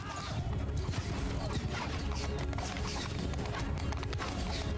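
Many horses galloping in a Mount and Blade Bannerlord battle with horse archers, a dense, loud, unbroken rumble of hooves mixed with clanking and creaking, no voices.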